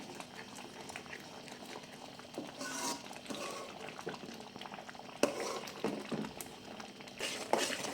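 Semolina stirred in a pan over low heat for mango sheera, with faint scraping, soft sizzling and bubbling, and a few sharper knocks of the spoon against the pan.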